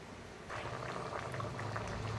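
Tamarind curry, kuzhambu, simmering in a pot with dal dumplings, a soft continuous bubbling with small pops, quiet and close with no voices.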